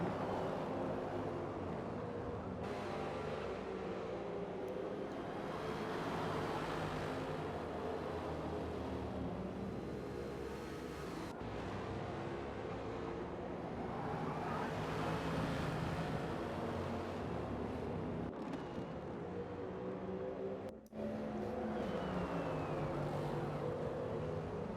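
Several racing car engines roar together in a sim racing game at Catalunya, a dense, continuous drone with shifting engine whines rising and falling throughout, with no talk.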